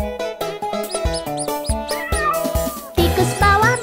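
Cartoon cat meowing in a children's song about a mouse and a cat, a run of short bright meows over a bouncy musical accompaniment, close and clear.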